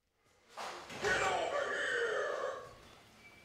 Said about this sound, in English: The door might sound aggressive